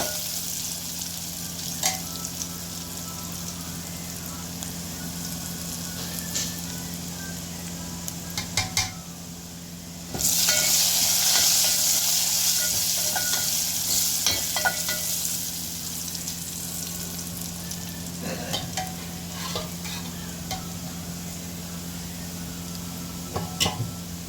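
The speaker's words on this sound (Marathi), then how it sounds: "थोडीशी हळद टाकायची, असं परतू द्यायचं छान. ते फोडणी आपल्याची खमंग फोडणी आली पाहिजे." A spice tempering with turmeric fries in hot oil for a green chili dish, a continuous close sizzle broken by scraping stir strokes, briefly louder partway through.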